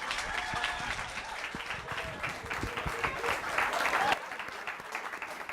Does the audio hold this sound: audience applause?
yes